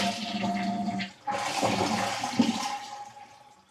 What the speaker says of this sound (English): Then I'll flush it a couple times.